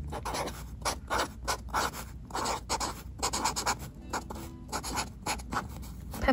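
Dry erase marker writing a word on a plant label, a steady run of close, soft scratchy strokes with brief lifts between letters, alone in a quiet room.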